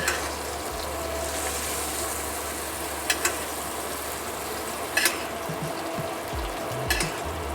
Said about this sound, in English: What you want to do is tilt the pan and start basting.